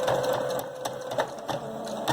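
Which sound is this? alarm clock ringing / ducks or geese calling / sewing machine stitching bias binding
sewing machine stitching bias binding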